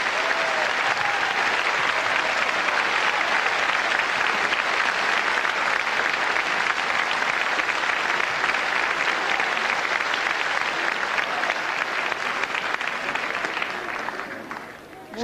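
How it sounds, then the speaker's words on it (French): Sustained, loud audience applause at the Miss France 1991 pageant as the committee president is welcomed, a dense crowd clapping steadily for several seconds before fading at the end. "Madame Geneviève de Fontenay, que je vous demande d'applaudir maintenant"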